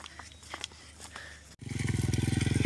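A motorcycle on a rough rural road, faint rattling ride noise giving way to a loud, close, pulsing engine drone in the second half.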